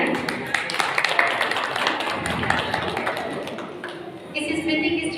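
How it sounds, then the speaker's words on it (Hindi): Loud applause from a kavi sammelan audience at a school in Kota, dense clapping that fills the hall and fades slightly near the end while a voice speaks over it. "जोरदार तालियां।"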